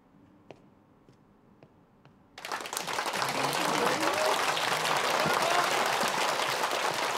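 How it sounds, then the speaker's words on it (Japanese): After a brief quiet moment with a few faint ticks, applause breaks out suddenly from a church audience during a Bible quiz, swelling into loud, sustained group clapping that continues to the end. "拍手を"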